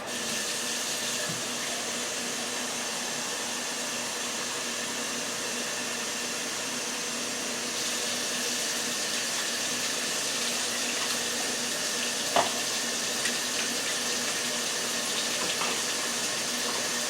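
Water is poured into a hot pressure cooker pot during a goat stew recipe, giving a steady, close hiss and rushing sizzle that holds for the whole stretch, with one brief clink partway through.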